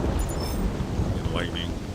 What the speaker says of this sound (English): Don't you just love the rain, the thunder, and the light, thunder